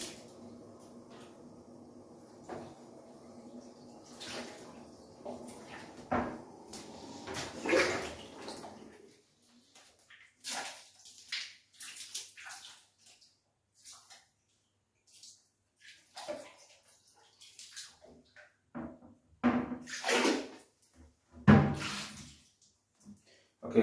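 Water splashes and trickles as a toilet is rinsed during cleaning, with a steady pour at first, then short bursts of splashing and dribbles, close and fairly faint.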